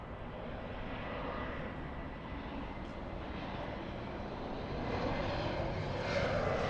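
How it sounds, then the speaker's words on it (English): A Korean Air Boeing 747-8 approaches LAX over Santa Monica, its distant engine rumble faint and steady and slowly swelling toward the end. "We're going to be zooming into a 747, a Korean 11, getting close to LAX."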